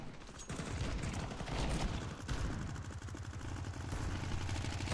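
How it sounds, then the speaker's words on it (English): Rapid submachine gun fire from the MP9 in the video game Counter-Strike 2, a dense continuous rattle of shots, steady and loud throughout with overlapping bursts. "the MP49 sounds actually amazing"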